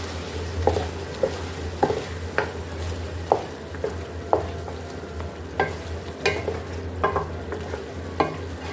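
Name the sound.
chicken kali mirch karahi with yogurt stirred and frying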